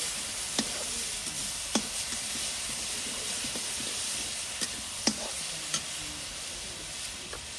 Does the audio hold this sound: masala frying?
yes